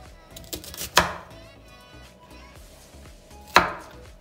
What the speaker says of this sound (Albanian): Dhe e grim qepën. Nuk ka nevojë që qepën ta grim të hollë